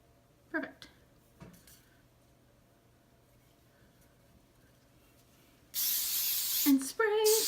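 An aerosol can of hairspray sprays onto hair in one long, close hiss lasting about a second, followed by a short second burst, after quiet handling noises.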